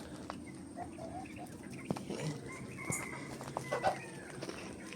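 Chickens clucking softly in the background among scattered outdoor noises, faint and intermittent, with a few sharper clucks near the end.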